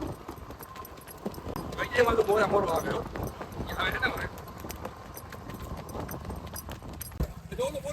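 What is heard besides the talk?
horses trotting, hooves clip-clopping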